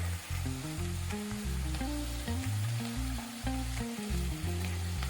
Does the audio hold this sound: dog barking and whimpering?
no